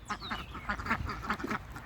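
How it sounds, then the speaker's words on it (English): Several domestic ducks quack in loud, repeated bursts close by, a busy overlapping chorus with no talking, sounding like a small flock at a farm field heading toward a pond. "That's one way you tell the difference between girl ducks and boy ducks, is the sound of their quack."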